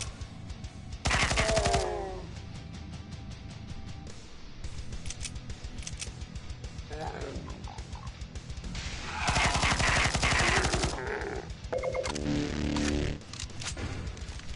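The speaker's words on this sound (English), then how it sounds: "the Bison is what the chain gun replacement is called" Rapid automatic gunfire from a Counter-Strike Bizon submachine gun swapped in for the chain gun in a modded Doom, bursts of loud close shots around two seconds in and again from about nine to eleven seconds, over a busy background of game sounds.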